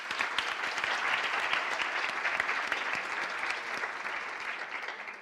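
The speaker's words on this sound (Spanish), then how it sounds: "Un aplauso para Ana Pacheco." Steady audience applause at a conference panel on social media and cyberactivism, an even wash of many hands clapping at moderate distance, fading slightly toward the end with no talk over it.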